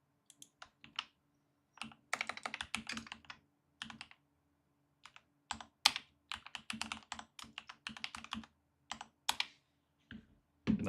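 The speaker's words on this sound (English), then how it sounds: "Now let's make sure I got it like right in one go, because last night was an adventure in typing out Lotus K" Fingers tapping a computer keyboard in irregular bursts of quick clicks separated by brief pauses, close and fairly quiet, no speech.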